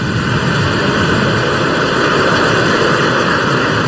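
A SpaceX Falcon 9 rocket lifting off on the Crew 1 mission, heard as a loud, continuous, broadband roar that stays steady and unbroken throughout, with no voices.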